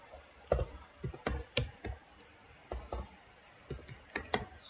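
Someone typing an SQL query on a computer keyboard, with irregular bursts of close, light key clicks and short pauses between the runs of keystrokes.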